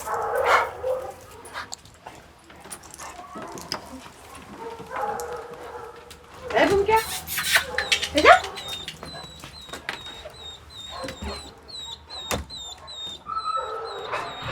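Bunker, an older hunting dog, whimpers and yips with high, wavering whines and a few barks, close by, while someone talks to him in French between the sounds.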